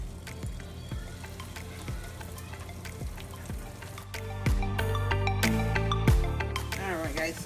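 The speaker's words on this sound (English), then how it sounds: "So we'll continue frying and we'll catch up with you once we're done." Bofrot (Ghanaian puff puff) dough frying in hot oil, a continuous close sizzle with intermittent clinks and stirring knocks, the frying growing louder partway through.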